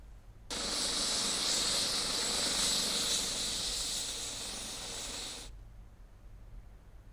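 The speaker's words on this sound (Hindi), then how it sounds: "इसके बाद छात्र छात्राओं ने हेलीकॉप्टर राइड का खूब लुत्फ उठाया" A helicopter carries students on a joy ride. A steady, loud rushing whir of engine and rotor cuts in abruptly, holds for about five seconds and then drops away to a faint background.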